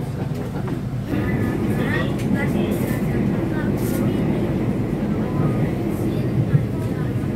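The Senja Utama Yogya passenger train rumbles steadily as it departs the station, a broad low roar that swells after the first second, with faint voices mixed in.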